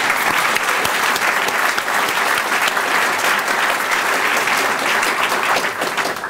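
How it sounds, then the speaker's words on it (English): An audience at the close of an opening ceremony in Santa Ana, California breaks into sustained applause, a dense, loud roar of many clapping hands that stays strong and unbroken throughout, with a faint crowd murmur beneath. "let's have a round of applause"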